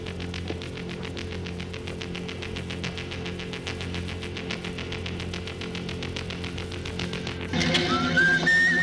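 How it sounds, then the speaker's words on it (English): A man whistles a relaxed, casual tune in a movie scene, clear tonal notes repeating over a steady low hum, ending with a brief burst of louder rustle and higher sliding tones near the close. "whistling the most casual whistle that's ever been whistled"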